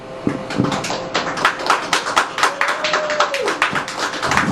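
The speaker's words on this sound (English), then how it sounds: "we need to be able to just give a round of applause to Stephanie." A small group gives a round of applause at a gathering, quick bright claps from several hands close by, lasting a few seconds and fairly loud with a slightly uneven rhythm.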